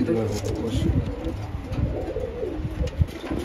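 Kasuri pigeons, a Pakistani high-flying breed, coo nearby in low, throaty, rolling calls that repeat and overlap continuously, with a few soft chirps mixed in.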